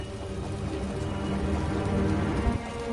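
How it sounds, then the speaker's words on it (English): Heavy rain falls in the video game Wuthering Waves, a dense, steady hiss of drops on surfaces that swells slightly louder and holds without a break. "The rain's getting heavier."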